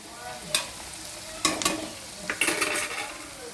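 Okra frying in oil, with scraping, clinking stirs over a soft sizzle and several sharp bursts of stirring close by.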